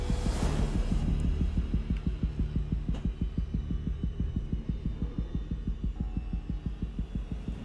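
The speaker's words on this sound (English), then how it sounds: "Heartbeat! Oh!" A heartbeat sound effect in the horror video game Alien Isolation thumps in a steady, regular rhythm under a low hum and dark ambient game audio, with no talking.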